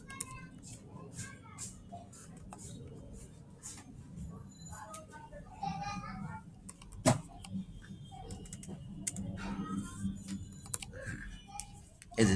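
Quick, irregular clicking of keys on a computer keyboard during data entry, with a steady run of light taps and a few sharper strokes throughout.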